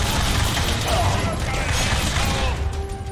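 Rapid gunfire from The Darkness video game, a dense continuous burst of shots and mechanical clatter filling the whole stretch, loud and close, with a player's voice talking over it.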